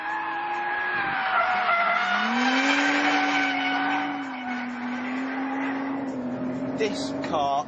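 A Lotus Evora S sports car engine roars at high revs around a race circuit, pitch climbing and dipping through gear changes, loud and close throughout.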